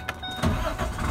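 A 2012 Ford F650 crew cab diesel truck with an Allison transmission cranks and fires, a brief burst of starter noise giving way to a deep, close diesel rumble.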